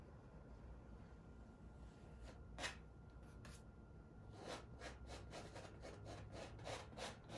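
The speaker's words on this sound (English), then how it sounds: "Now I'm just scraping off some of that extra paint." A palette knife scrapes excess oil paint off a canvas in short, quiet rasping strokes. They come singly at first, then in a quicker run of scrapes, all close and faint with no talk.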